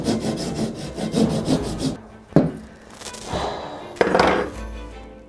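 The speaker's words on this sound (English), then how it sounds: "I think I'm just gonna move on to like a handsaw maybe." A handsaw makes a quick run of rhythmic rasping strokes, close and fairly loud. Then it stops, followed by a couple of sharp knocks and short scraping sounds.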